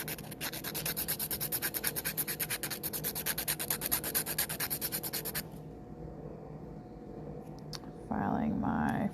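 A file scrapes across the free edge of a fingernail in quick, even back-and-forth strokes up close for several seconds, then stops, leaving quiet handling noise and a brief clatter at the end.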